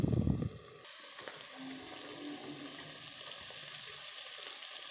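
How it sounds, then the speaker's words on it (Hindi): Moringa drumsticks fry in a pan with a steady, close sizzle that runs unbroken through the clip after a short burst of stirring or clatter at the start. "और इसे हम बस अब 1 से 2 मिनट और फ्राई करेंगे।"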